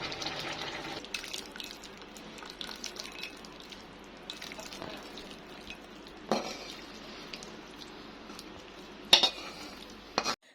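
Goat liver bhuna with potatoes is stirred in a pan, with a soft continuous scrape and light sizzle punctuated by a few louder utensil knocks near the end.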